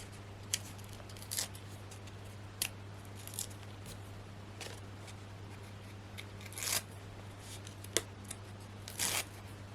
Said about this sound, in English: So I'm just going to peel all of these backs off.